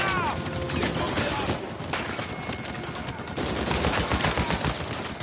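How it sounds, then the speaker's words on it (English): Automatic turret fire in the Uncharted 4 video game, a dense, sustained burst of rapid gunshots rattling close and loud throughout, with game effects layered in. "there's a turret."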